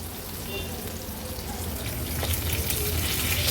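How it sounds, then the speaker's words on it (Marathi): Lepa fish shallow frying on a tawa over medium flame, a steady close crackling sizzle that grows slightly louder toward the end, no voices. "मागची बाजू पण आणखीन दोन मिनिटासाठी मीडियम फ्लेमवर अशीच तळून घेऊया"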